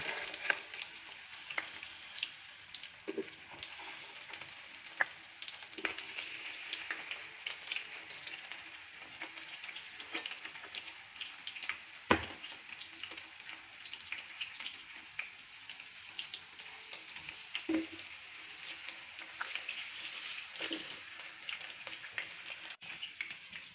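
Aloe vera pieces frying in hot oil in a pan, a faint continuous sizzle with scattered soft pops and crackles throughout.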